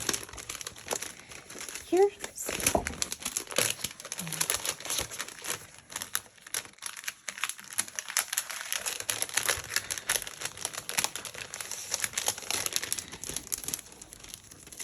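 Masking paper from a scrapbooking product haul crinkles and rustles almost continuously as it is handled up close, while a person talks over it.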